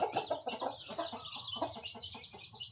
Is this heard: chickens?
yes